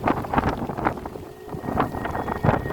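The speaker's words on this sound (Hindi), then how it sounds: "बहुत तेज हवा।" Strong wind on a hilltop trek buffets the microphone in loud, gusting rushes that swell and ease repeatedly, with no talk.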